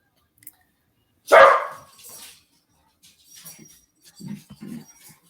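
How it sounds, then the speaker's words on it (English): A dog lets out one sharp, loud bark, then follows with a few softer, scattered yips and grumbles in an otherwise quiet room. "And I love when my dog starts going off."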